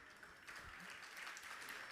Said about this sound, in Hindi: तुम लोग ताली बजा रहे हो